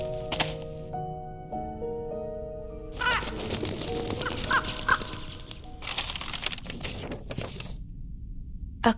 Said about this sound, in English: A crow.